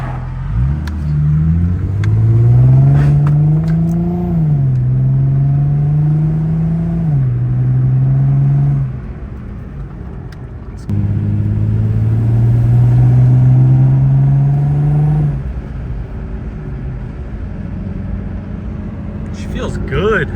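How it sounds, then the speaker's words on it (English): Infiniti G35 Coupe driving with a slight wheel bearing noise, a loud engine drone rising and falling through acceleration, easing and speeding up again, heard from inside the car. "There is still like a slight wheel bearing noise on this side"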